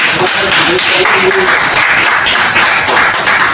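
A church congregation claps in praise during a worship service, a dense, steady wash of many hands close by with voices mixed through it.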